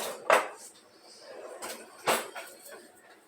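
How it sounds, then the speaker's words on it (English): A spatula scrapes Christmas cake batter around the edges of a mixing bowl, giving a few close, soft scrapes and knocks against the bowl with quiet pauses between. "when I am baking, I scrape down around the edges"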